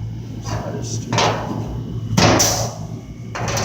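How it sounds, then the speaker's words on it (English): Hand punch tool piercing holes in the floor pan of a 1969 Dodge Coronet 500, a few sharp metallic clunks spaced unevenly over a low shop hum, close and fairly loud. "Right now I'm just punching the holes."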